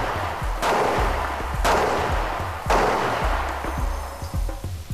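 Gunshots fired at a Bosch Metal Mickey CCTV camera to test vandal resistance: three loud, sharp bangs about a second apart, each with a short echoing tail, then smaller clicks and knocks.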